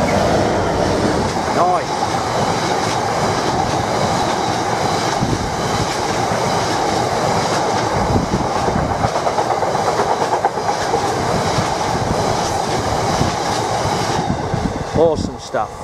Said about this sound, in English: coming towards us now is 6 Papa 41, the gas condensate tanks heading to North Walsham